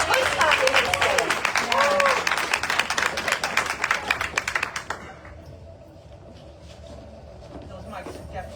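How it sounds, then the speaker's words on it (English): An audience at a Village of Hempstead mayoral and trustee candidate forum claps in a dense burst for about five seconds, then the applause stops and the room falls quiet with light background noise. "Let's give her another round of applause."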